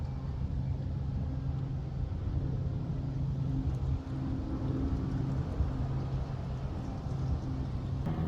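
A Ford C-Max's engine idles as a steady low rumble, loud and close, holding an even drone for the whole stretch with no one talking.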